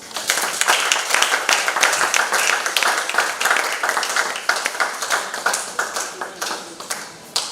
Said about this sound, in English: Clapping, please.